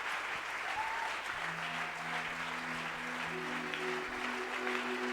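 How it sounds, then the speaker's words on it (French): A church congregation applauds for the Lord with continuous, dense clapping that fills the room. A few sustained tones sound faintly underneath. "J'aimerais bien que tu acclames pour le Seigneur"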